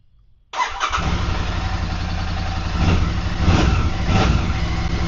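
A motorcycle that has stood unused for three months starts up, either a Royal Enfield Hunter 350 or a Meteor 650. After a short quiet lead-in, the engine catches abruptly and settles into a loud, close idle with a few light revs.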